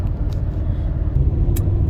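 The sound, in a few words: pickup truck driving uphill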